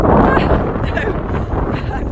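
Outdoor wind buffets the microphone in loud, gusty low rumbles that fill the short stretch, with a voice faintly mixed in.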